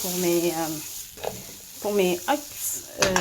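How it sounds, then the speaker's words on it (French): Vegetables, onions and peppers, frying in butter in a pan, with bursts of sizzling and stirring scrapes heard between stretches of nearby talk. "je vais laisser caraméliser avec le beurre"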